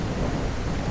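Thunder and rain in the video game Park Ranger Simulator make a brief, dense wash of rainfall over a low, steady rumble.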